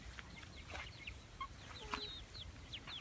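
Chickens clucking nearby in short, scattered calls, with bright bird chirps overhead and a low rumble of outdoor background noise, by rice paddies in rural Isan, Thailand.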